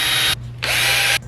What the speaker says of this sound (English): I'm gonna drill the holes for the seat bolts.